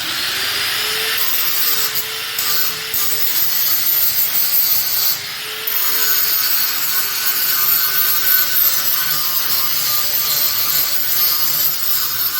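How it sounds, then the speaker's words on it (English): An angle grinder held fairly flat against metal grinds steadily and loudly up close, a continuous harsh hiss with brief dips in pitch and no talking. "so when you're watching me grind,"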